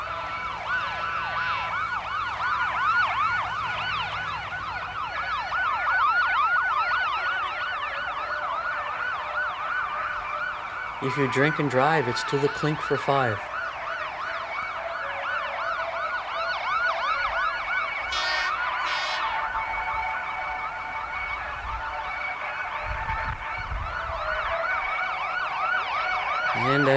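Wailing emergency sirens from several fire trucks roll through a street parade, rising and falling continuously and fairly close, with a brief burst of a horn-like warble partway through and a voice speaking over the din.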